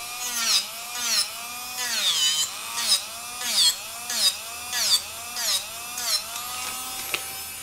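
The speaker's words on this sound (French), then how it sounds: "je viens mettre ma ponceuse avec ma tête ici de manière à venir éliminer la matière." A small electric nail sander whines steadily while removing gel from nails, its pitch dipping and rising in repeated strokes roughly once a second as it grinds, close up with no talking.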